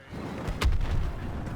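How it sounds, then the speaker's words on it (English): A loud explosion from the video game Star Wars Battlefront 2 booms nearby, with a sharp crack followed by a deep rumbling tail that fades over a second. "did you hear that explosion?"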